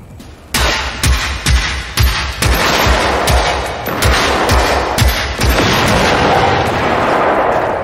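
A robot in the game Generation Zero fires at a house door, sending a rhythmic series of heavy, booming shots followed by sustained rapid gunfire, loud and close.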